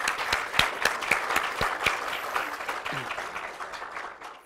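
A small group applauds steadily at a drawing and painting contest awards ceremony, with distinct claps ringing out over a light, even patter that gradually fades.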